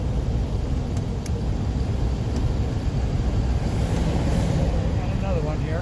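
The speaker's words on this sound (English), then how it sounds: "Got one truck coming up behind me here." A truck comes up behind on a road, heard from inside a moving vehicle as a constant loud rumble of road and wind noise, with someone talking over it.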